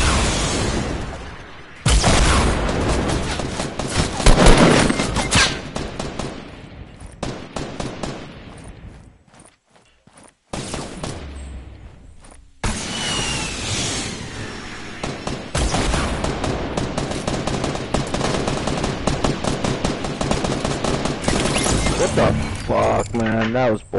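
Gunfire in the Fortnite video game: dense bursts of rapid shots and blasts fill most of the stretch, loud and close, broken by a brief quiet gap, with voices talking over the shooting.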